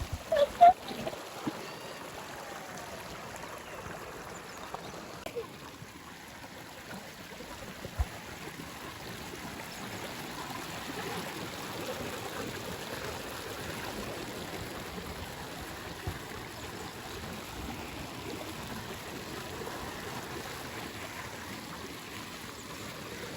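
Small waterfall and stream on a farm, with clear water running over muddy ground: a steady, broad rush of flowing water throughout, with a few knocks and handling bumps near the start.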